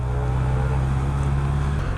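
A Honda CB1100 motorcycle engine idles low and steady at about 1,000 revs in second gear around town, a deep even rumble with a faint shift in tone near the end and no talk.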